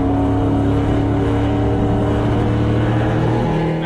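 NASCAR race car lapping the Venray oval in the Netherlands during Elite 1 qualifying, its engine a loud, steady drone held at high revs for the whole stretch, heard from close by with no voices.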